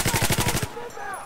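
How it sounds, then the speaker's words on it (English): Rapid automatic gunfire in Battlefield 4, a loud close burst of about seven shots lasting under a second, followed by fainter game ambience. "Stop shooting!"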